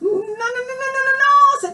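A storyteller's voice imitates a frog's deep croak, a single drawn-out, nasal, voiced call lasting nearly two seconds, close and fairly loud, sung in character for a toad suitor.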